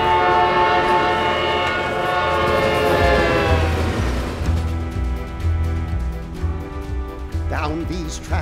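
A train passes while its horn sounds loudly at first, then a deep rolling rumble and wheel clatter take over. A voice speaks near the end.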